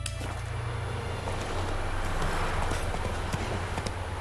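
Roach the horse's hoofbeats from The Witcher III, a steady clip-clop rhythm at a trot or gallop, moderately close under a low constant hum of game ambience.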